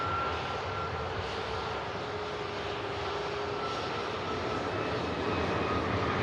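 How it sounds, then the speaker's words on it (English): A Ryanair airliner taking off at Manchester Airport, a steady broad jet engine roar with a faint high whine, sustained and fairly loud throughout with no speech. "Ryanair just taking off in the background there."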